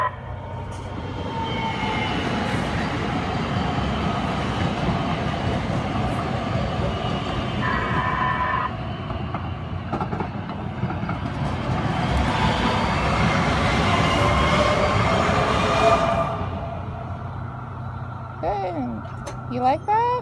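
A heavy train rumbles past nearby with a continuous roar that builds and fades, a brief horn-like tone, and voices talking near the end.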